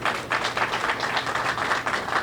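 A crowd applauds at a ribbon cutting ceremony for a behavioral health crisis center, steady dense clapping filling the room without a break.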